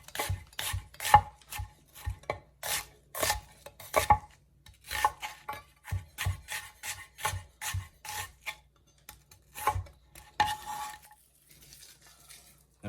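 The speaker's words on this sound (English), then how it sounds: "we're gonna cut up the natural veg" A kitchen knife chops vegetables for Jamaican oxtail on a board, sharp rhythmic cuts in steady bursts with short pauses, close and clear with no talk.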